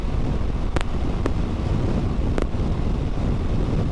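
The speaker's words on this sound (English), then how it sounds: "Oh, we got a crosswind now." Crosswind buffets a rider on a motorcycle, making a constant loud low roar of wind against the microphone with a few brief sharp tones cutting through, and no speech.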